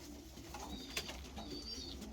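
Racing pigeons coo softly in a loft, a steady low murmur of several birds with brief higher calls over a constant background hum.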